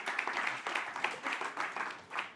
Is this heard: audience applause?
yes